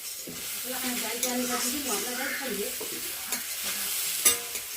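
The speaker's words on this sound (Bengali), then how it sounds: "এখানে যে ছোলা কচু ভাজা করছি" Taro and chickpeas fry in a pan with a continuous close sizzle and soft stirring scrapes, while a faint voice hums or murmurs in the background.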